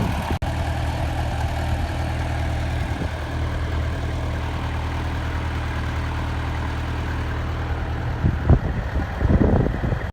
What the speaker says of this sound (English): I'll just go ahead and park my tractor.